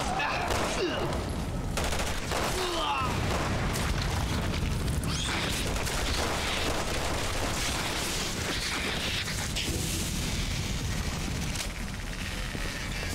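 Dense, continuous barrage of blasts and gunfire from an incendiary grenade going off in Resident Evil 6, loud and sustained with crackling bursts layered throughout.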